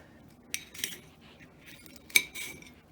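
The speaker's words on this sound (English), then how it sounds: "I'm going to do the same thing, a rough chop" Faint, sparse knife taps and clinks on a cutting board while red peppers are roughly chopped, a few separate strikes spread over a few seconds in a quiet kitchen.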